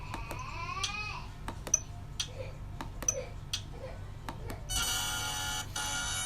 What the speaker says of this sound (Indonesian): itu adalah suara ketika menang